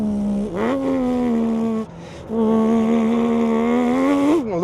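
A man imitates a stock classic Porsche engine with his mouth, a steady revving drone that dips briefly, then climbs again with rising pitch, loud and close with no other sound.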